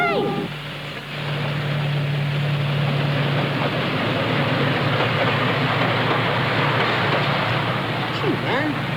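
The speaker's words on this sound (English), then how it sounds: "It's a train." A train rumbles past, a loud, continuous roar with rattling wheels that holds steady throughout, with voices briefly heard over it.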